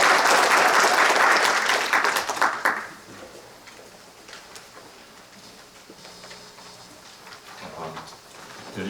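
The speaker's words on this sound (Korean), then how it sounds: "큰 박수로 부탁드리겠습니다." Loud audience applause at a Korean sports dentistry conference, a dense burst of clapping that cuts off after about three seconds, leaving quiet room tone with faint movement.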